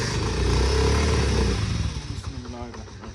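A motorcycle engine runs loud and close in a rural village, rumbling and revving before dropping off partway through, with people talking over it.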